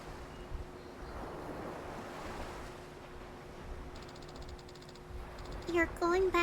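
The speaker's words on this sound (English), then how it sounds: "The waves are so loud." Ocean waves washing onto a beach in the game Yakuza 4, a steady rushing surf with wind, with a voice speaking over it near the end.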